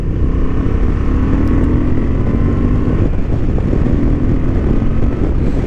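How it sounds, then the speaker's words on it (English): A Honda XL750 Transalp 2023 motorcycle engine runs on a racing track, a loud continuous drone under heavy wind rush, holding a steady pitch throughout. "plenty of power, especially after 4000 RPMs, 4500"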